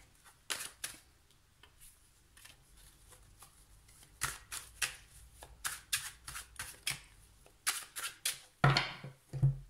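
Tarot cards are shuffled and laid out in a quiet room: a run of soft, irregular riffles, slaps and flicks, close and fairly faint, growing busier toward the end.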